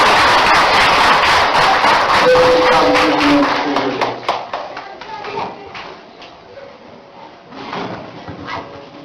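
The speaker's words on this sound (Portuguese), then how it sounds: "Vamos aplaudir o Senhor." Church congregation clapping during a pastoral consecration service, loud dense applause at first that thins into scattered claps and fades, with voices and a few cries underneath.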